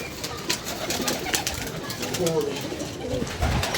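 A pigeon coos softly amid a busy, noisy background with intermittent knocks and faint talk.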